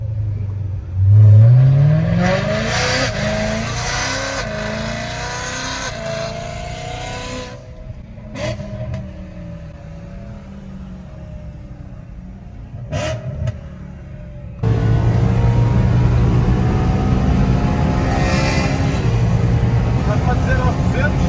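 A BMW E92 M3 engine on a racing lap, close and loud, rising through revs in repeated climbs with shifts and brief lifts, under a voice talking for much of the clip.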